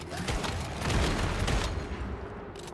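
Willfire weapon fire at a boss in Once Human, a dense burst of booming shots over steady rumbling combat noise, close and loud.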